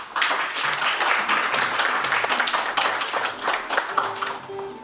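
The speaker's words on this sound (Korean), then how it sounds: "박수로 맞이해주십시오" An audience at a Korean national welfare ceremony for people with intellectual and developmental disabilities applauds to welcome a government official to the stage, with loud, close, crisp clapping from many hands that stays lively throughout.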